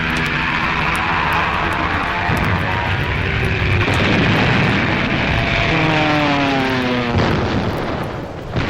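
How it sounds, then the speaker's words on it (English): World War II dive bombers roar through an attack, propeller engines droning loud and near with rising and falling pitch as planes pass and swoop, alone without voices. "dive bombers"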